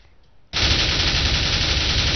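An M4A4 rifle in the video game CS:GO opens up in a sudden, sustained burst of rapid automatic fire after a half-second of quiet, loud and close, continuing without pause to the end.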